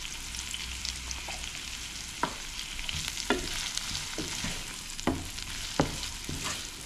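Onions, garlic and lemon pepper sizzle steadily in a hot pan, a close, continuous frying hiss broken by occasional sharp stirring clicks and scrapes, with no talking.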